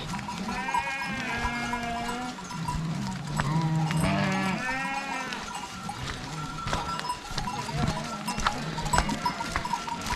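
Several sheep bleat repeatedly, close by, with wavering calls overlapping. Bells clink and hooves shuffle among the flock.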